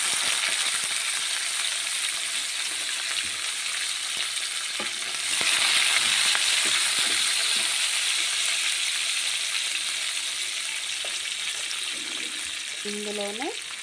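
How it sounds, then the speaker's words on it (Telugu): Onions and curry leaves fry in tempering spices of mustard seeds, chana dal and urad dal. The oil sizzles steadily and loudly close by for the whole stretch, with faint clinks near the end. "ఓకే, పోపు దినుసులు ఫ్రై అయినాయి కాబట్టి ఇప్పుడు ఉల్లిపాయలు,"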